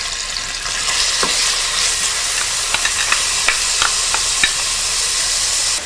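Onion and crushed garlic sauté in oil in a pan, a loud continuous sizzle with scattered crackles and stirring scrapes, no talking.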